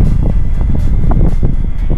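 Strong wind on a hilltop hiking trail between Violet Hill and Repulse Bay, Hong Kong, buffets the microphone with a constant low roar and rumble, loud and unbroken throughout.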